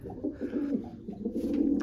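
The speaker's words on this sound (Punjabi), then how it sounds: "ਇਹ ਆਪਣੇ ਵੱਡਾ ਕਬੂਤਰ ਹੈ" A large pigeon kept in a loft, one of a flock of about twenty, coos in a steady, continuous low warble close by with no other sound.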